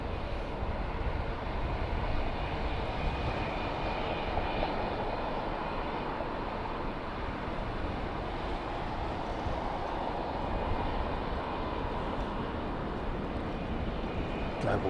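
An Air China Boeing 747-8i heavy jet takes off with a continuous, broad engine roar that stays steady and loud throughout, with no distinct voices.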